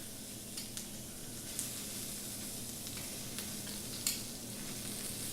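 Food sears on a heated Himalayan salt cooking brick, giving a soft, steady sizzling hiss with occasional faint pops and taps, quiet and close.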